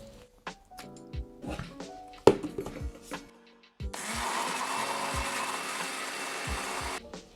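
A few knocks and taps, then a blender starts up loud and steady, whirring silken tofu, protein powder and sweetener into a smooth liquid for a high-protein tiramisu.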